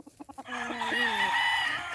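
Gamefowl chickens clucking at a chicken farm, a few short close clucks at the start followed by a longer crowing call rising over a steady farmyard background.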